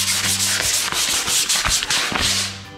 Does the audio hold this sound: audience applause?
no